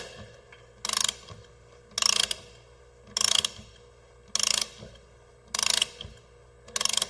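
Shop-built test rig cylinder without spring return being pulled back for engine head stud and nut testing, heard as six loud, evenly spaced mechanical ratcheting bursts about once a second over a low steady hum, with no talk.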